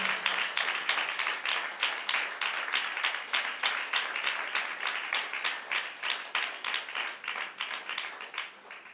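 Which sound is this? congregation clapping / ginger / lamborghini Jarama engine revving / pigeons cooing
congregation clapping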